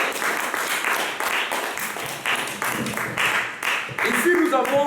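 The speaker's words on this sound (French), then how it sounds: "Acclamons très fort pour la parole de Dieu." A church congregation at a French-speaking service claps in bursts of applause, moderately loud, with voices talking and calling out over the clapping.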